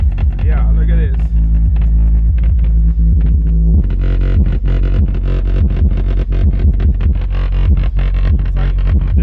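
Heavy subwoofer bass in a Jeep JL pounds loudly and continuously, throbbing low and rattling with distorted buzz as panels and a wooden enclosure vibrate, growing denser partway through.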